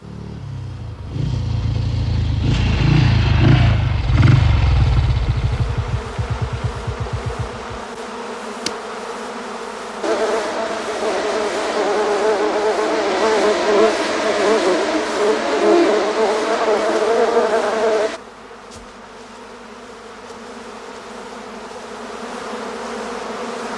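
A swarm of killer bees buzzes in a 1995 horror film, a loud, dense, wavering drone layered with a low rumble early on, carrying on for about eighteen seconds before dropping to a fainter background hum.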